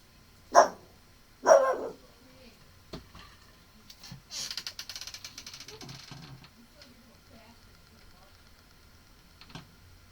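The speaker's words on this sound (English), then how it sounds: "You heard the dog, right?" A dog barks twice close by, sharp and loud, followed by faint tapping and a brief rattling clatter, then near quiet.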